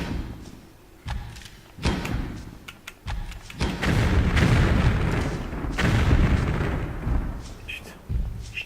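Grenade launcher shots and booming explosions in the Tomb Raider 3 video game, a series of heavy thuds and blasts with rumbling tails that swell into a sustained loud roar midway.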